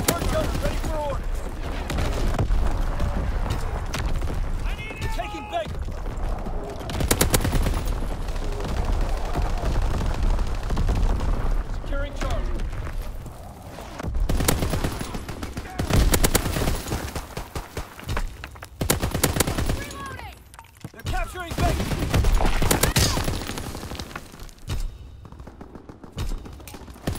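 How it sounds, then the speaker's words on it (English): Division artillery firing in a naval warship video game, repeated heavy booming salvos and rattling gunfire in dense bursts with short lulls between them, loud and close throughout. "Firing division artillery."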